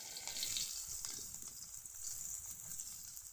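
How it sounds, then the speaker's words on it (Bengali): Onions frying in oil with cumin, chili and garlic give a steady, close sizzle with bright crackling hiss, continuous and fairly quiet throughout, with no voices. "আমি একটু ভালো করে পেঁয়াজগুলো ভেজে নেব লাল লাল করে"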